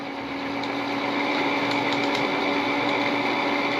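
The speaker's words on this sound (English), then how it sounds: "Now run it in the trimmer." A Frankford Arsenal case trimmer spins steadily as cartridge brass is trimmed, giving a continuous high motor whine with faint cutting ticks and no talk.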